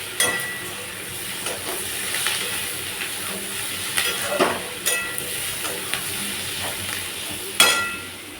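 Onions softening as they fry in a pan for a rainy Sunday home meal, giving a steady low crackle with occasional sharper clicks and taps of stirring, fairly close and without talk.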